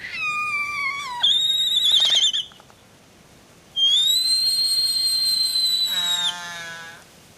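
Albatross calling at a wildlife refuge on Kauai, Hawaii: loud, high, drawn-out whistling wails and moans in two long bursts with a brief pause between, close and without talk.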